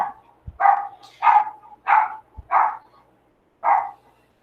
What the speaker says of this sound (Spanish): yo hago callar el perro